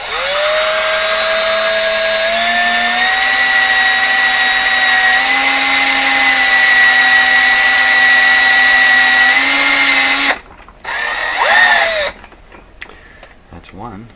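A power drill drives a screw while a new tweeter is mounted in an Electrohome CS400P stereo speaker, whining loudly and steadily for about ten seconds before stopping, then a shorter burst follows.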